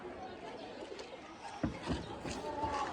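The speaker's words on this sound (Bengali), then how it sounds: "নর কবুতরটা" A young male pigeon coos in repeated soft, low bursts at close range, with rustling, handling noise and a few sharp knocks around it in an indoor loft setting.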